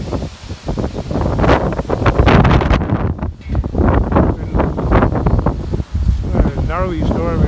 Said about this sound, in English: Oh, it's really getting windy.